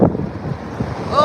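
Gusty wind buffets a microphone outdoors in cold weather, a steady low rumble with brief louder surges near the start and end, no talk over it.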